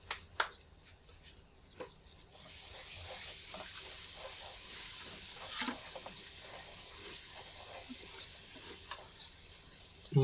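Spices sizzling in hot oil in a pan while cooking camel meat kabsa, a soft steady frying hiss after a few faint clinks, with occasional stirring scrapes and no speech.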